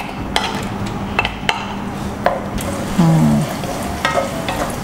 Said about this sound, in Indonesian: Sekarang kita boleh masukin bawangnya.